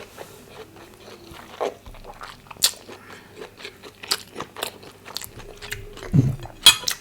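Close, crisp crunches and bites into crunchy peanut spicy chicken, with chewing in irregular bursts over several seconds and no talking.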